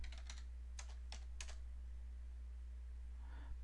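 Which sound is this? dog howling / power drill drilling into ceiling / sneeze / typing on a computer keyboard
typing on a computer keyboard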